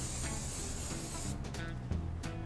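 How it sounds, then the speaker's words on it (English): Short continuous hiss of cooking spray coated into a roughly 9 by 9 inch pan, fairly loud and close, cutting off partway through and leaving quieter kitchen clatter. "I like to put a little bit of cooking spray in the pan."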